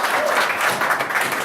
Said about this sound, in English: we give that some round of applause